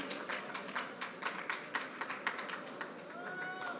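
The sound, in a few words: audience applause for a guest speaker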